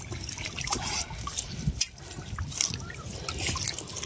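Water poured out in a village setting where fish have just been caught, a continuous close splashing trickle with a brief break near the middle and no talk.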